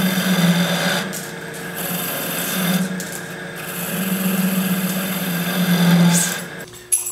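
A cutting tool on a wood lathe turns the thin stem of a long-stem wooden goblet, giving a continuous scraping rasp with a low hum that rises and falls in pressure across the cut, ending abruptly.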